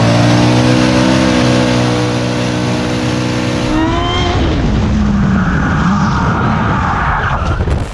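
Ford Escort RS Mexico drag car engine revving hard at a drag race, a loud sustained harmonic drone that climbs sharply in pitch midway, then roars on with broadband exhaust noise.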